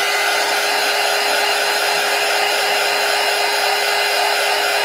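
A hair dryer blows steadily and loudly at close range, drying a steampunk collage box, with an unbroken whooshing hum and no voices.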